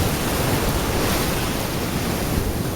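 Big surf at Secret Beach on Kauai, Hawaii, roars in a loud, steady broadband wash with no breaks, close and continuous with a touch of wind, and no voices.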